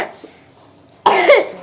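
A young child coughs once, loudly and close by, after a quiet pause with faint sounds.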